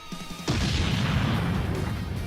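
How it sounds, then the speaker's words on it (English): A large anime-style explosion from a skyward punch, starting with a sudden loud burst and sustaining into a dense, rumbling roar that stays loud for about two seconds, alone without talk. "The resulting explosion lit up the sky, and a shockwave spread for miles."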